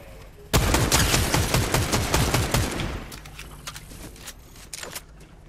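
Rapid gunfire from enemies in Fortnite, a loud, dense volley of repeated shots that goes on for a few seconds and then thins into scattered, quieter bursts.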